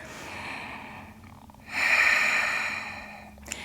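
Deep breathing during a yoga side stretch on all fours: a slow exhale, a pause, then a long, loud, airy breath close to the mic that gradually fades.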